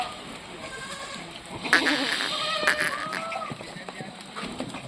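Pregnant Kathiawari goats bleat a few times at moderate distance amid farmyard bustle, with someone talking over them.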